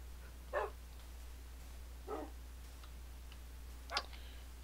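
Wolves barking in Minecraft, three short separate yips spaced about a second and a half apart, fairly faint over a steady low hum.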